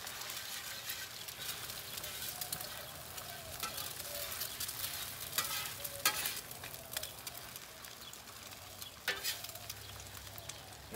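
Scrambled eggs frying on a griddle give a steady soft sizzle with occasional scrapes and clicks of a spatula, close and continuous, with no talking.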